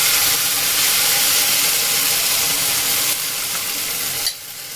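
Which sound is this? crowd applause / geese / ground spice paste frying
ground spice paste frying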